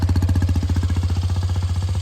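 A motorcycle engine runs during a riding lesson, throbbing in a fast, even pulse up close with no voices.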